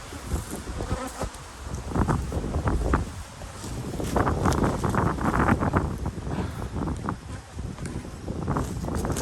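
Honey bees buzz densely around the hives at Savanna Apiary, a close, wavering hum with individual bees flying past and some wind buffeting the microphone.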